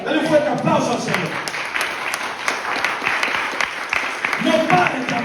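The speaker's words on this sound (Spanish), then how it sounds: "Dale un fuerte aplauso al Señor." A church congregation bursts into sustained, loud applause that fills the whole stretch, with a preacher's voice speaking over it.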